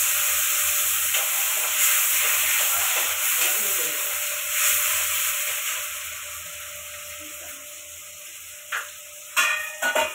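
Tomatoes drop into a hot pan in a home kitchen while cooking a cauliflower and potato curry, with a steady broadband sizzle and hiss that fades slowly over several seconds, broken near the end by a few sharp clinks.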